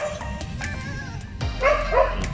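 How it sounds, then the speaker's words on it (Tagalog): A dog barks and yips in a quick series of sharp, close bursts, ending with a louder, whiny bark, with no talk over it. "Ayan na naman yung aso, magwawala na naman."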